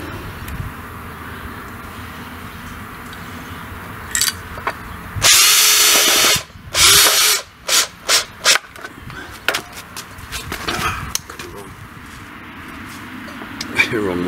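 A power drill drives screws with washers into a foldable wheelset for a miter saw, sounding as one sustained whir near the middle followed by several short bursts, up close against a background of quiet room noise.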